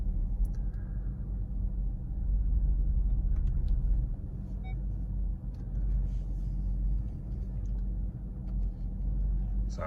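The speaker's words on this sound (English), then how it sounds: "I'm backing my car into a parking spot" A 2014 car reverses slowly into a parking spot, its engine giving a low steady rumble heard from inside the cabin, fairly quiet with faint small clicks and movements.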